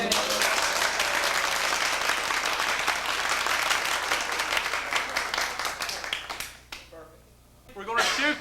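A studio audience bursts into dense, sustained applause for a show opening, loud and continuous for several seconds before dying away abruptly, then a brief swell of sound at the end.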